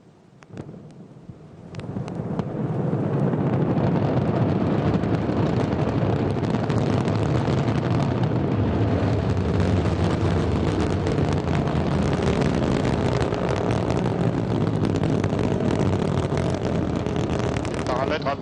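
Ariane 5 rocket engines ignite at liftoff, the Vulcain main engine and solid boosters building from a short start into a sustained, loud, broadband roar that rumbles on steadily without a break.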